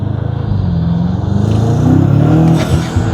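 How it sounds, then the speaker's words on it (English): BMW G90 M5 fitted with Armaspeed intakes accelerating, a loud, close engine roar with rising, shifting harmonics and induction noise that builds steadily over a few seconds. "you can still hear the intakes. You can hear the exhaust."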